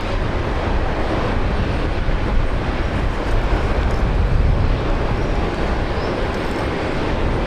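A Fokker 100 jet airliner departing Brisbane Airport for Cairns, a loud continuous broadband jet roar with rumbling low end that stays steady throughout, no talking.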